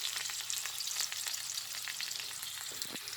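Tomatoes frying in hot oil for pakbet, a soft steady sizzle with faint crackles, quiet and continuous throughout, with no talking.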